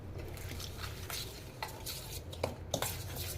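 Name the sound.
mixing a thick paste with a spoon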